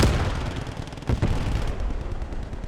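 Sustained automatic machine-gun suppressing fire in the WWII game Post Scriptum, a dense, loud rattle of rapid shots with booming low rumble, briefly pausing near the middle before resuming steadily.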